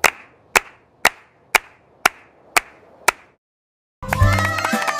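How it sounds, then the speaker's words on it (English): A cartoon little girl claps her hands in joy, seven crisp, evenly spaced claps ringing out alone, followed by a burst of bright music. "A little girl claps her hands in joy at the sight"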